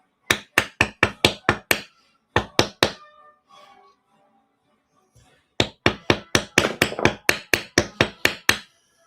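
Sharp metal hammer blows strike the tip of a stainless piece in a workshop, coming in quick even bursts of about seven to eight, then a pause with faint handling noises before another long run of rhythmic strikes.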